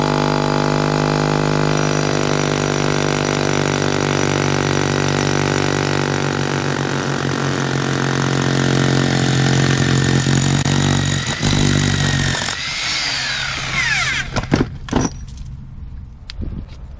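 Bosch hammer drill with a 1.5-inch diamond core bit boring through a crawlspace wall, a loud steady high-pitched whine for about twelve seconds that cuts off, followed by scattered clanks and rattles.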